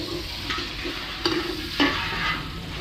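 Garlic and onion frying in butter with cooking oil, a steady low sizzle broken by a few sharp stirring scrapes of a utensil in the pan, close up.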